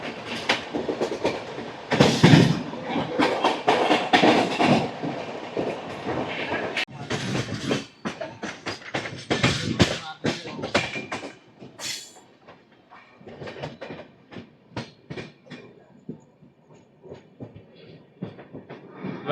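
The Hussain Sagar Superfast Express, running between Mumbai CSMT and Hyderabad, rolls along the rails with loud, rhythmic clickety-clack clatter from its wheels over track joints, gusting and fading as the coaches pass.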